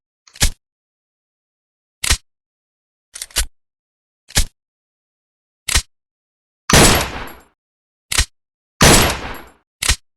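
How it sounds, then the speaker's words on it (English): A Glock 17 pistol cycles through firing, with sharp isolated cracks and metallic clacks spaced irregularly, two longer ringing bursts near the end, loud and close with no voices. "from the moment the firing pin strikes to the extraction of the empty shell, and finally, chambering the next round"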